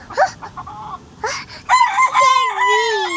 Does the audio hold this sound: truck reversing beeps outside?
no